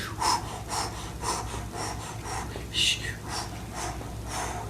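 Slow, deliberate diaphragm breaths during a core workout, with soft repeated inhales and exhales about every half second to second, close and fairly quiet.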